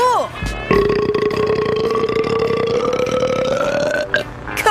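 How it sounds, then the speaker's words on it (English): A cartoon female character lets out one long, loud, tonal burp that slowly rises in pitch and lasts several seconds, close and dominant, with brief voiced sounds before and after it. "That was my celebration burp."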